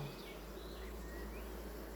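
Honeybees hum at an open hive, a faint, continuous buzz that stays even throughout with no voices.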